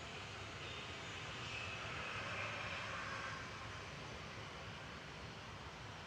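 Royal Air Maroc Boeing 737-800 jet at Manchester Airport, a faint, distant, continuous engine rumble and hiss that swells slightly and then eases, with no voices.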